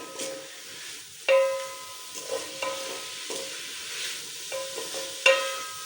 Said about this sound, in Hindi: अब इसकी हम थोड़ी सी दरमियानी आंच पे भुनाई करेंगे